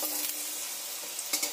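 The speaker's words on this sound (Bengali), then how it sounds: "তেলটা আমার গরম হয়ে গেছে। এবার একে একে ভেজে নেব।" Mochor sweets fry in hot oil in a wok, giving a steady, close, bright sizzle with a couple of small spatters in a brief burst.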